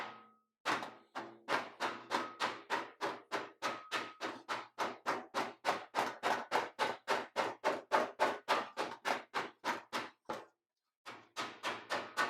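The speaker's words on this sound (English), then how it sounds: "I'm going to put that on the T-dolly and hit it with a rubber hammer." Rapid, evenly spaced rubber hammer blows on a metal panel over a T-dolly, for a 1938 custom Cadillac, roughly three per second, thud close and loud, pausing briefly before a final short burst.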